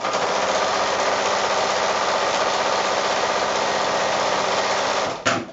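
Sewing machine stitching PVC coated fabric for a small shopping bag, a steady close whirring run of rapid needle strokes that stops abruptly near the end.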